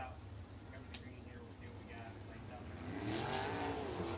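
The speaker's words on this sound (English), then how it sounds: "we'll start to get the cars wound up" Sprint race cars on a dirt oval rev up at Lincoln Park before hot laps. Engine whine rises and grows louder toward the end under a faint announcer's voice and crowd noise.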